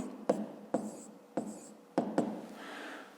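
A pen or pencil writing out a fifth-grade math solution on paper, with four or five short, crisp scratching strokes separated by brief pauses, close and quiet.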